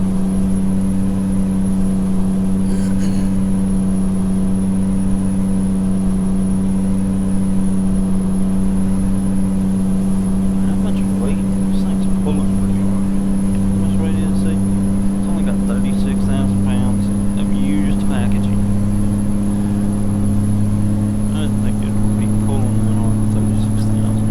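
Steady low drone of a big truck engine cruising in American Truck Simulator, a constant deep hum throughout while someone talks over it.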